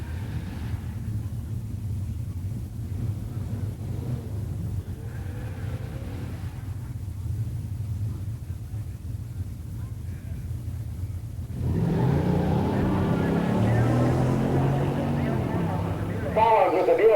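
At a 1986 pure stock drag race, a 1970 Olds 442 W30 and a 1970 Buick Grand Sport Stage 1 automatic idle with a low rumble at the starting line, then engines rev louder near the end under an announcer's commentary.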